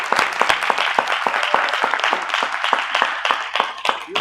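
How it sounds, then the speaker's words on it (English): A church congregation claps along in a loose, rhythmic beat, with sharp individual hand claps standing out close by over a softer bed of clapping throughout. "Y'all give them a hand clap."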